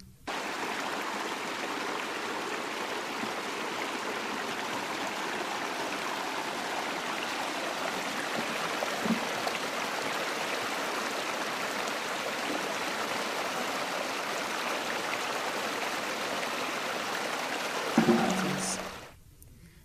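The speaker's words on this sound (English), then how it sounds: "the stream is filled up with water flowing from the nearby mountains" A mountain stream rushes steadily in a continuous broadband wash nearby, ending with a brief clatter before it cuts off.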